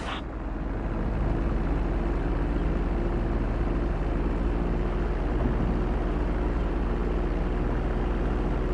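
A plane in a flight simulator game descends toward the runway, its engine giving a steady, loud broadband drone with a low hum underneath that holds unchanged throughout.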